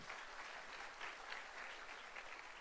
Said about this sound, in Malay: Tepukan untuk kita semua.